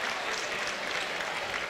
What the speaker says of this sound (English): Applause by the Spartan fans.